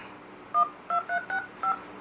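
A TCL Idol X+ Octa Core smartphone plays dialer keypad tones through its small speaker: five short, clear beeps, each a different dual-pitch tone, pressed in quick succession at close range.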